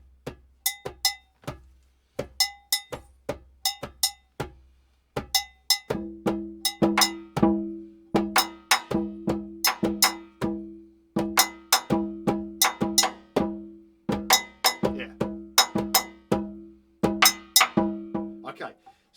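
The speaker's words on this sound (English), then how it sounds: "especially the accompanying kind of bass drum bell pattern that propels it along so nicely" A Baladi rhythm rings out on a sharp, repeated bell, soon joined by a deep bass drum that drives the pattern forward in a steady, propulsive groove, loud and close throughout.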